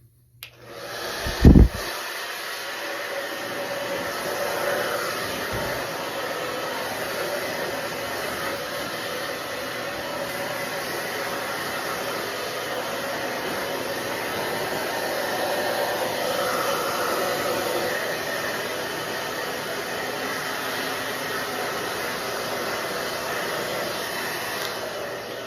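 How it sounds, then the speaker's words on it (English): A hair dryer blows with a steady, loud whoosh after a brief click, running continuously without pause, drying a Miniature Bull Terrier. "I just use the dryer and dry him"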